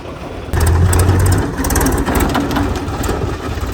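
A Mahindra 275 tractor's diesel engine, running with no silencer, roars steadily up close, loud, rough, harsh and unmuffled, with a sudden jump in volume as it revs up.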